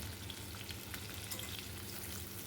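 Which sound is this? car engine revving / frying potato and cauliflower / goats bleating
frying potato and cauliflower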